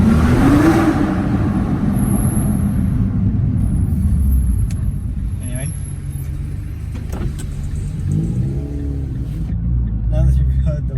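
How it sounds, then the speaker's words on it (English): Engine of a 2009 Nissan GTR Black Edition, a continuous low rumble that swells briefly at the start and then idles steadily close by, with a person speaking at moments. "now that you've heard the way the Nissan GTR sounds"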